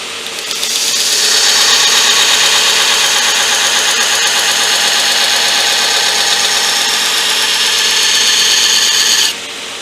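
A powered grinder running steadily as it takes the corners off a hand-forged knife blank, a loud, continuous whirring drone that spins up at the start and cuts off near the end, close by with no talking.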